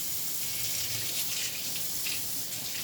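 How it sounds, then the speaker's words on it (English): Tap water runs steadily into a sink while a fork is rinsed, giving a close, even splashing hiss with no talking. "I'm going to rinse that off."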